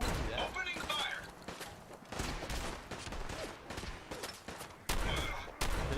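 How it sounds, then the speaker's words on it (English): Gunfire in a modded Fallout 4 battle against the Institute: dense bursts of rapid shots and heavy blasts crackle almost continuously, loud and close, with brief pauses between volleys. "Opening fire."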